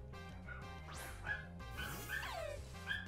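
A dog barks and yips in a Pokemon Shining Pearl game, short repeated calls over steady game music.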